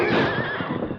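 A horse whinnies loudly and close in a single quavering neigh lasting about a second, a sound effect from a 1940s Western radio drama set on a shadowed canyon trail.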